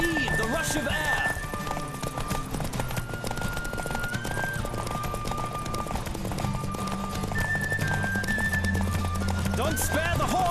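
During a race in The Witcher 3, a horse charges at full gallop, the quick clatter of hooves running nonstop beneath game music, punctuated by whinnies and heavy breathing.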